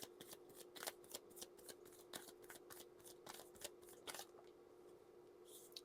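Tarot cards shuffled by hand in a series of quick, dry riffling bursts of uneven rhythm, close and moderately quiet, over a steady low background hum.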